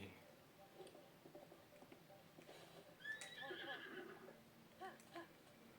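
A horse in a video game whinnies in a rising, shrill call amid soft clip-clop hoofbeats and small clicks, fairly quiet, with game sounds around it and no words.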